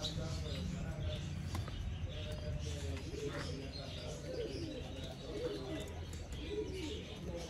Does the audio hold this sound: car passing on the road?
no